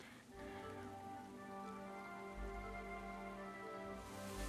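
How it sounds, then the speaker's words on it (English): Steady rain falling in the medieval game Kingdom Come: Deliverance 2, a continuous close patter on surfaces with droning ambient tones beneath, no voices. "I think the rain's gonna stop."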